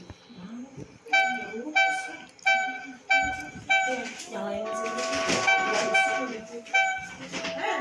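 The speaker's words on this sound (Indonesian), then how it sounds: "kereta mulai mau berjalan" A train sets off with a series of short, regular horn blasts, then a longer, denser tonal stretch and another blast over low rumbling.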